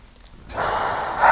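A single slow, deep exhale during a yoga session, soft at first then swelling into a full breathy rush that grows louder toward the end, heard close and without speech.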